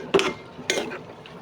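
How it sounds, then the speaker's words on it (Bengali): Lentils, potatoes and gourd greens stirred together in a cooking pot: two brief scraping clanks of a utensil against the pot, close and fairly quiet. "আমি এগুলো একটু নেড়ে চেড়ে নিচ্ছি"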